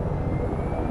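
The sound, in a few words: helicopter in a video game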